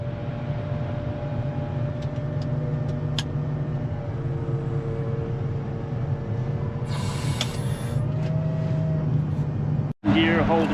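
A Volvo L180 wheel loader with automatic bucket fill runs steadily nearby, a continuous low diesel drone with a brief cut near the end, while people talk over it.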